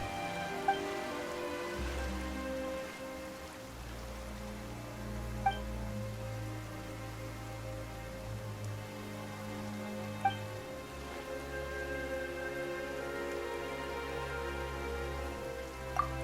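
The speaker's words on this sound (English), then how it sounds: "Why is it raining all of a sudden?" Steady, even rain falls in Genshin Impact, a soft continuous patter lasting throughout, with faint sustained game music tones and occasional light chimes beneath.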